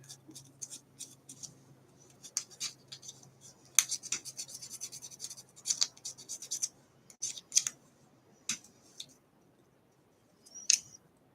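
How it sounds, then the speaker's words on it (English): Sandpaper rubbed over the fabric pants of a custom action figure, a series of short close dry scratchy strokes in irregular bursts with quiet pauses between them. "use me some sandpaper to get all the fuzzies off"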